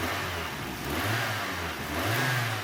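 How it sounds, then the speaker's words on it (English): A 1992 Toyota Corolla engine runs steadily up close, its low rumble rising and falling slightly as it revs, with no voices. "thankfully the engine is still running as it should"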